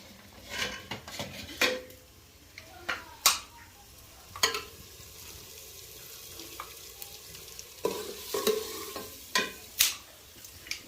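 Curry (salan) cooking in ghee in a pan, with scattered metallic clanks and scrapes of a spoon against the pot over a faint sizzle, close by and without talk.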